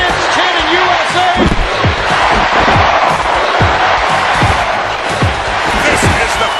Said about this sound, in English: The fans chanting USA.